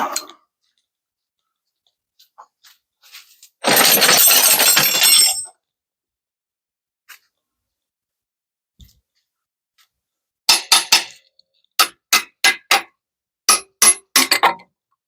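A short hissing burst is followed by about eight sharp metallic hammer strikes on a stuck water pump of a Vauxhall Vectra B GSI 3.2 V6 engine, unevenly spaced and fairly close.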